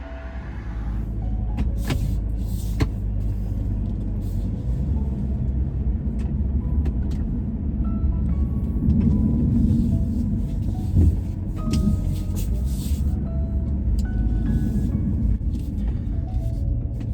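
A car engine hums and rumbles steadily from inside the cabin while driving, with occasional small clicks and knocks over the continuous low drone.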